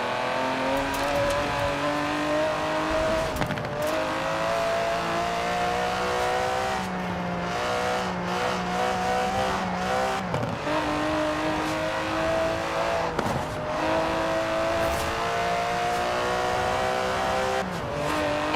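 Aston Martin DB11 with a 5.2-litre twin-turbo V12 in Forza Horizon 4, engine note rising and falling steadily through repeated gear changes and revs, with occasional tire squeal, loud and close throughout, no talking.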